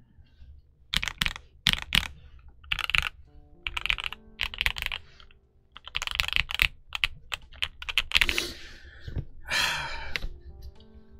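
Rapid clacky keystrokes on a Drop CSTM65 mechanical keyboard in uneven bursts with short pauses, close and crisp, no talking.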